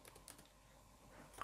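Brief burst of typing on a computer keyboard, a few quick light key taps with short gaps, close and fairly quiet, ending on a slightly louder keystroke.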